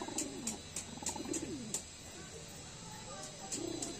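Madrasi high flyer pigeon cooing up close: a run of low, throaty, rolling coos repeats through the stretch, over light background hiss with a few sharp ticks.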